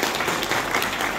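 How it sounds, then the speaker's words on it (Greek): Spontaneous applause from an audience at a church event honoring benefactors, a dense, steady wash of many hands clapping throughout the short moment with no voices. "αυτό το αυθόρμητο χειροκρότημα των ανθρώπων"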